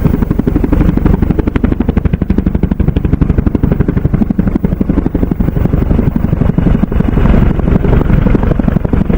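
A Chinook helicopter flies over Ladakh near the border, its loud, steady rotor chop pounding in rapid rhythmic pulses with heavy engine roar throughout.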